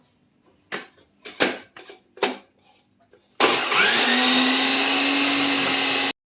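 After several scattered clunks and handling knocks, a kitchen grinder whirs into a loud, steady high-pitched run of about three seconds, finely grinding fenugreek leaves, then cuts off abruptly.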